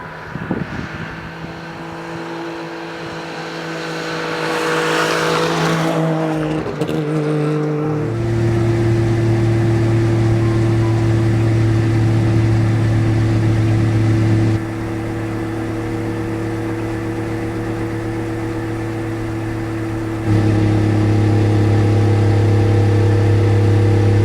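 A Saab Sonett II with a two-stroke engine drives along, its buzzy, steady drone holding a strong low note that steps to new pitches as it shifts through gears. The engine sounds loud and close, with no voices.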